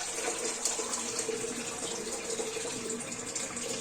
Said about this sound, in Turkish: Bunu taşıyarak taşları gelmeden dökmeliyiz.